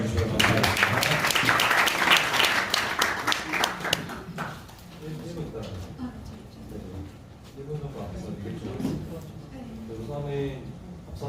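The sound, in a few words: audience applause welcoming a conference speaker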